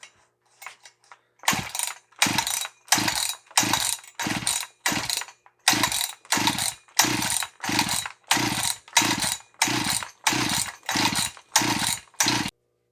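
Starter cord of a Husqvarna 357 chainsaw pulled repeatedly during a compression test, about sixteen evenly spaced ratcheting pulls, each a loud whirring rasp with a low engine chug, close and without talk.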